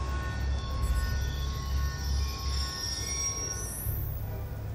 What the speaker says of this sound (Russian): Ни черта не слышно. Поезд мешает.